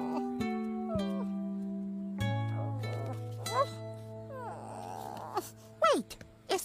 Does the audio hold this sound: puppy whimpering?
yes